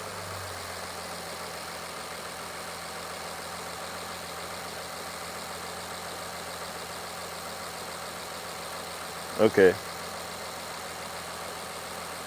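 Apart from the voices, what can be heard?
Mercedes-Benz GLS 450 engine idling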